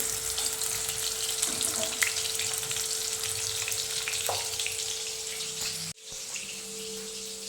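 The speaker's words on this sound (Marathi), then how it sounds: "केळीचे तुकडे तळून घ्यायचे म्हणजे भाजी चिकट होणार नाही मस्त असे खरपू तळून घ्यायचे" Pieces of raw banana fry in hot oil in a home kitchen, giving a steady, dense sizzle that runs close and even throughout, with a brief break near the end, and no talking.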